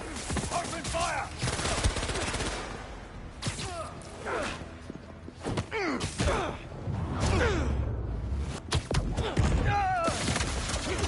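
Rapid gunfire from enemies in the Spider-Man 2 video game, bursts of shots with whooshes crackling across the clip amid game noise and brief voices.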